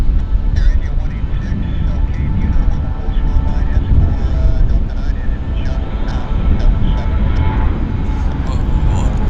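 A CRJ regional jet rolling for takeoff at Vancouver YVR airport, a loud continuous low roar that holds steady throughout the roll.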